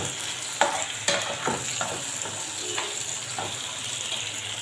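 Eggs go into a pan of frying peppers and diced tomatoes, producing a steady close sizzle with repeated stirring scrapes and clicks of a utensil against the pan.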